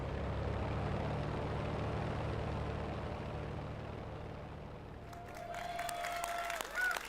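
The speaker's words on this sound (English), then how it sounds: "Why am I clapping?" A large audience applauds and claps at the EA Play 2019 live show, a loud sustained roar for about five seconds that tapers, followed by fainter clatter, a whistle-like tone and brief crowd noise.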